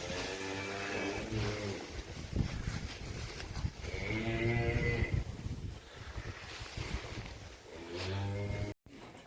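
A cow that calved two days earlier moos repeatedly in a farm shed, loud and close. The long, drawn-out calls come one after another against steady wind or background noise.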